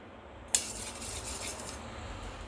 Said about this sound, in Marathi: तर टेक्स्चर अगदी घट्टसर येत नाही तेव्हापर्यंत आपण याला मिक्स करत राहू.